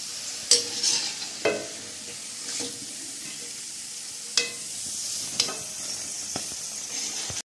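Aloo pakoras sizzle steadily in hot frying oil as they are turned, with several sharp clinks and scrapes of a utensil against the pan breaking through the continuous crackle.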